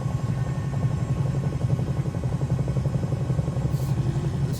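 Cowansim 222B helicopter flying in a VR flight sim game over Niagara Falls, a steady close rotor chop and engine drone with rhythmic thumping that holds at a constant level throughout.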